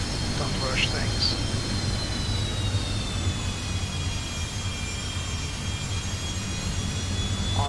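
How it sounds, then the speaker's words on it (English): Steady jet whine from the Rolls-Royce Tay engines of a Fokker 70 in a flight simulator game, a continuous high tone over a low rumble, holding level throughout. "Awesome sound, this Rolls-Royce Tay engines."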